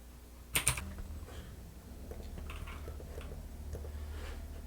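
Fast bursts of keyboard typing on a computer keyboard while entering text into a PowerPoint slide, a few sharp louder strokes at first, then steady soft clicking close by over a quiet room hum.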